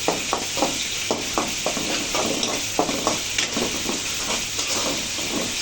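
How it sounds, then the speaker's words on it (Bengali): Ginger and garlic fry in a pan under a dense, steady hiss of hot oil, while a spoon stirs and scrapes in regular strokes about twice a second, close and loud, with nobody speaking. "আদা রসুনটা ভেজে নিলে স্মেলটা অনেক ভালো আসে। ভালো করে ভেজে নিচ্ছি।"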